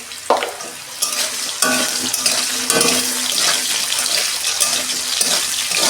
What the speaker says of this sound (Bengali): আলুটা আমি 2 মিনিট ভেজে দেবো।